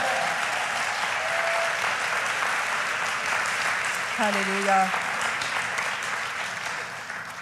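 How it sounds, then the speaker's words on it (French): A church congregation applauds heartily during a service, with a steady wash of clapping running throughout and a single voice calling out briefly partway through. "Est-ce qu'on peut lui donner une bonne main d'applaudissement?"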